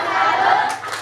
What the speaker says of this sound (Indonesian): Kita tepuk salut.